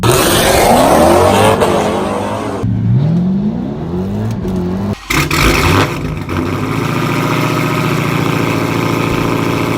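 Dodge Charger Hellcat V8 roars loudly and continuously, its rumbling engine note shifting pitch as it revs and pulls away, with a brief dropout partway through and steady engine drone throughout.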